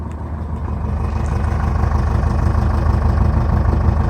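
A 2006 Jeep Liberty 2.8 CRD turbodiesel idling close by from the exhaust, a steady low chugging rumble that grows slightly louder and holds even throughout, with no voices.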